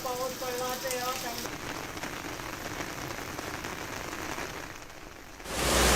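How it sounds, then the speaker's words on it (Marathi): Heavy monsoon rain in Mumbai falls in a steady hiss on surfaces, faintly under a brief voice at first, ending with a louder surge of noise. "पावसाचा जोर कायम असल्यानं नागरिकांना मोठा दिलासा मिळालाय"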